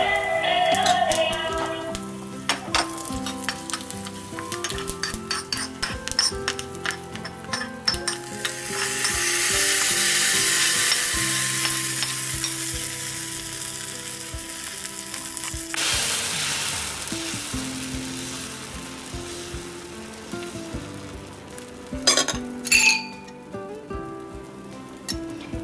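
Cumin, dried red chillies and asafoetida fry in hot oil for a rajma dosa, giving a steady crackling sizzle with a busy run of small pops and spits that swells, then settles to a softer fizz.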